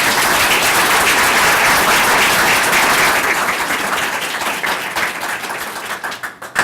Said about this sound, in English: I'm going to give the team a round of applause.